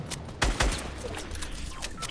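Gunfire in a first-person shooter video game, with two loud, sharp close shots near the start, then a steady spatter of quieter, more distant shots over a busy game background.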